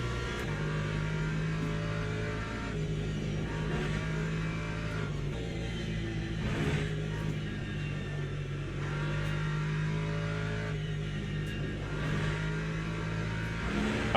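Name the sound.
hypercars racing past in Le Mans Ultimate video game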